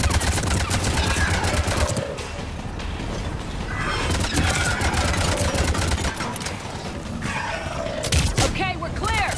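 Sustained gunfire in Mass Effect 3, dense and loud throughout with rapid overlapping shots, impacts and combat effects, while voices shout over the shooting.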